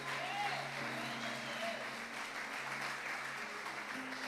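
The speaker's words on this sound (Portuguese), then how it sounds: "aplauda ao Senhor se você recebe." A church congregation claps and applauds at a Portuguese-language service, a steady wash of moderately distant clapping that fills the whole stretch with faint background tones.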